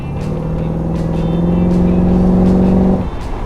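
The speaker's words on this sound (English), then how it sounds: "That snarling little small block Chevy V8." A small-block Chevy V8 in a 1932 Ford Roadster hot rod snarls loudly at close range, a deep rumbling idle that swells in a rev before dropping away.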